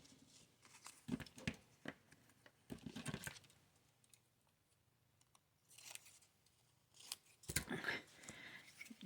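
Scissors snip at a small paper tag in several quiet, separate bursts of close cutting with pauses between them.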